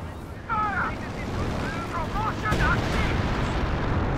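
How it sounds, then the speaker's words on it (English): A Katyusha rocket barrage in Company of Heroes 2, heard as rumbling, whooshing launches and dull impacts under ongoing battle noise, with someone commentating over it. "Katyusha doing a close range barrage on that Grenadier"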